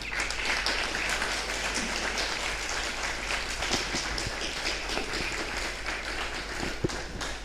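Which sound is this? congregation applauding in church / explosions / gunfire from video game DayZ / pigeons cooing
congregation applauding in church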